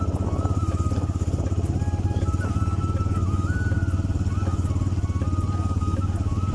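A motorbike rides through a village with a steady, rumbling engine drone and faint clatter, sounding close and continuous throughout.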